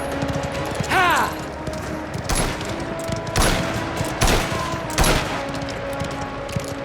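Repeated bursts of gunfire from the video game Mafia: The Old Country, several loud sharp volleys spaced about a second apart over a busy background of game sound, with a brief whistling swoop early on.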